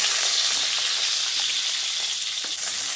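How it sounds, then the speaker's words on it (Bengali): Potatoes tipped into whole spices tempering in hot oil, a continuous loud sizzle with faint stirring scrapes and small pops, no voices. "ফোড়ন কয়েক সেকেন্ড ভেজে নিয়ে এবার এর মধ্যে প্রথমে আলুগুলোকে দিয়ে দিচ্ছি।"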